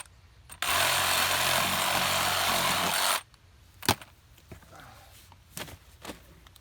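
A saw cutting a ham off a deer carcass laid over a cooler, a loud steady buzzing cut for a couple of seconds, then quiet handling thumps and knocks.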